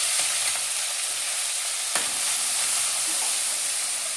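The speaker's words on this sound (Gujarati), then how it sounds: "તો હવે આ રાઈ ફૂટવા માંડી છે, તો એમાં જીરું નાખીશું અને થોડીક એમાં હિંગ પણ નાખીશું." Mustard seeds popping in hot oil with cumin and asafoetida added, a loud continuous sizzle and crackle close up, one sharper pop standing out partway through.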